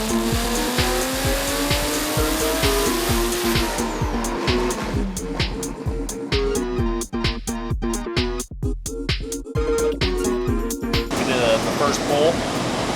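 A '49 Ford body-swapped with a BMW engine makes its first pull on a dyno, the engine loud and close with pops and sharp crackles punctuating a rising, strained roar.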